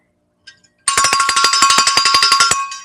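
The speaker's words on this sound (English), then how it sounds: "That was Grandma And Bobby's cowbell, Melanie if I didn't know it." A handheld cowbell is shaken rapidly during a live broadcast, giving about twenty quick metallic clanks in a fast, even rattle with a ringing tone, close and loud.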